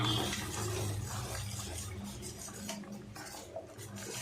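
Masala is stirred into hot oil in a pan for a chicken gravy, making a steady, close sizzling hiss with faint scraping of the spoon throughout.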